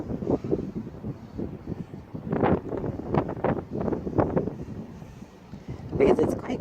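Cold wind gusts across a railway station platform, buffeting the microphone in uneven bursts of low rumble and whooshing noise that rise and fall over several seconds.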